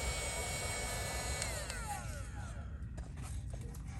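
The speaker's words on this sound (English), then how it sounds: "So I go around, I vacuum it up." A small handheld vacuum whirring steadily while collecting dragon fruit pollen from night-blooming flowers in a garden, a close continuous motor hum with a slight shift in pitch partway through.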